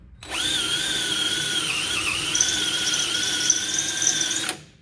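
A power drill runs steadily for about four seconds while boring into a part during front suspension work on a 1961 Ford Ranchero, its high whine wavering slightly in pitch, close and loud with no talk.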